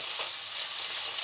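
Leeks frying with turmeric in a pan give a steady, close, bright sizzle with a faint stir near the start, lasting only a moment.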